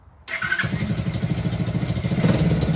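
A Chinese ATV quad engine fires up with a quick start and then settles straight into a loud, steady, throbbing idle close by, with no voices.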